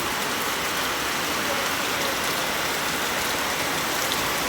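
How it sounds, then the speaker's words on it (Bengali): Torrential rain falls in a constant loud wash of water striking the ground and nearby surfaces, even and unbroken, with no one speaking. "বিশাল পরিমাণে বৃষ্টি পড়ে নেমে গেছে।"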